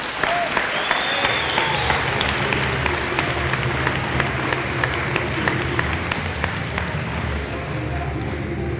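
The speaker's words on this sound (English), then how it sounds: "but give him one more round of applause" Sustained, dense audience applause at a spring sports awards ceremony, clapping for a coach, a steady loud wash of many hands lasting throughout with a few voices mixed in.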